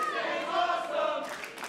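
Wrestling event crowd roaring steadily, a dense wash of many cheering voices held at constant loudness throughout.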